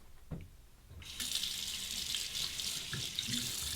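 Tap water running into a sink to rinse a razor during a shave, a steady splashing stream that starts abruptly and continues close and fairly loud, with no talk.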